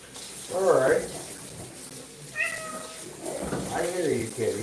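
A house cat meows twice in a row, a higher drawn-out cry followed by a lower one, close by in a kitchen with running tap water and someone talking in the background.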